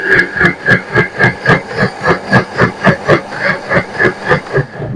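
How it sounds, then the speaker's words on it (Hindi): An electric grinder chops onion and oil for a raw mango chutney, a loud whirring drone that pulses in a fast, even rhythm of about three beats a second, with no talk. "फिर इसको थोड़ा सा ग्राइंड कर लेते हैं।"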